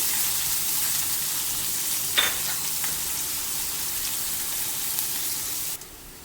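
Chopped onion sizzles in hot oil with cumin seeds, a steady close frying hiss broken by one sharp scrape of a spoon near the middle, continuing evenly until it cuts off at the end.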